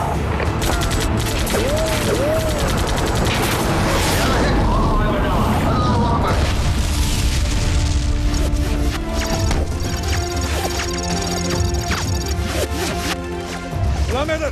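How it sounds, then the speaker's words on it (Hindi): Heavy gunfire and explosions in a war film about the 1965 India–Pakistan conflict, a dense continuous barrage of blasts and crashes with shouted voices over it. "सर, इस तरफ से हैवी फायर हो रहा है सर।"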